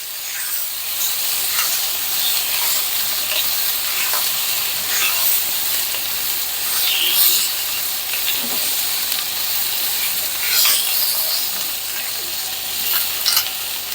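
Food sautéing in a sauté pan gives a steady, close sizzle and hiss with faint stirring scrapes, constant and unbroken throughout, with no voices.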